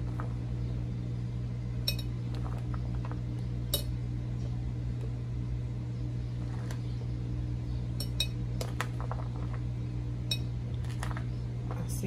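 Onion pieces dropped into a clean glass jar, light scattered clinks and taps spaced irregularly over a steady low hum, no speech.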